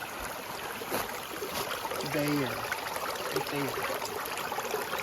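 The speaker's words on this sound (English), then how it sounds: "Nice little creek going down through here out of the mountain." A small mountain creek runs down out of the mountains and under a road, making a steady, close rushing and trickling wash that continues throughout while someone speaks briefly over it.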